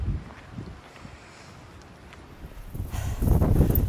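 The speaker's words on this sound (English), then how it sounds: "Third day straight of it being very windy." Wind gusting across a mountain ridge on the Appalachian Trail, a steady breathy rush with microphone buffeting that swells louder toward the end.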